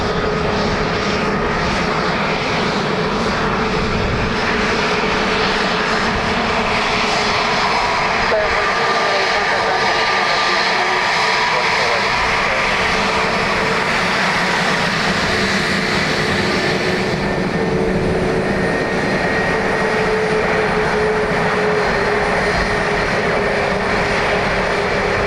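A Delta airliner lands on runway 28 left at Dublin Airport, a sustained, loud engine roar that is heard outdoors and stays steady throughout, with people talking over it.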